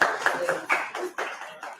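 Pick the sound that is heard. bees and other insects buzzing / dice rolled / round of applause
round of applause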